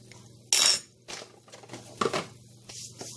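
A metal spoon clinks against a glass while stirring a cholera vaccine drink, with several sharp separate taps and scrapes, close and fairly loud, spread unevenly with short pauses and no talk.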